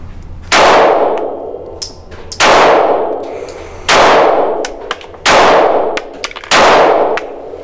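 A Taurus GX4 pistol fires five loud, sharp shots, evenly spaced about a second and a half apart, each followed by a ringing echo.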